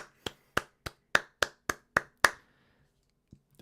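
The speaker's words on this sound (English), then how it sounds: "Can we get a huge round of applause, please, for Evan and the wonderful Craftmine?" Sharp, evenly spaced claps ring out one at a time, about nine in a steady rhythm, then stop. A faint tap or two follows after a pause. The applause is for a game jam entry.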